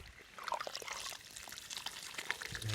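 Water gushes from a solar-powered pump cart built from an old pushcart, making a faint, steady splashing pour that runs without a break for a few seconds.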